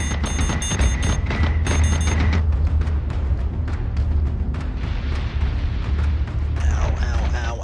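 Missile explosions in the Battlestar Galactica video game hit as a dense run of loud, booming blasts over a steady low rumble, with sharp tonal alarm-like bursts in the first two seconds and again near the end.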